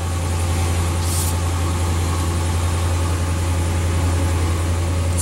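A 2013 Ram 1500 with the 5.7L Hemi V8 idles steadily, giving a loud, close, even low rumble that holds unchanged throughout with no voices.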